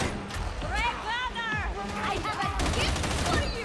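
Sniper gunfire in the Warhammer 40k Darktide video game, with sharp shots scattered through a busy battle mix of other weapons and effects, heard under steady voices talking.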